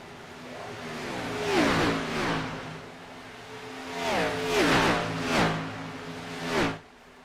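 Race car engines in a sim racing video game league playoff race at Auto Club, several cars whining past in succession with rising and falling pitch sweeps, loud and close, no talk over them.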